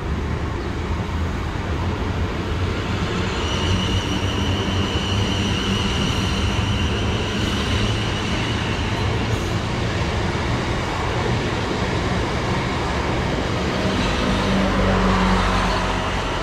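A South Western Railway passenger train bound for London Waterloo pulls out of a station on the Dorset coast, a loud continuous rumble and rolling wheel noise with a faint high whine, building slightly toward the end.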